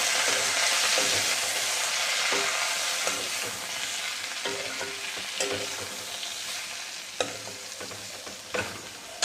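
Taro pieces frying in hot mustard oil in a wok, a continuous bright sizzle with repeated stirring clicks and scrapes from a spatula, close and fairly loud.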